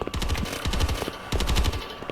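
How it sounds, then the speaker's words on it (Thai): Rapid bursts of gatling gun fire in the Roblox game A Dusty Trip, loud and close, in three dense volleys with brief gaps between them. "นายแกตเตอร์ลิงใส่ไอ ระเบิดนี่ก่อน"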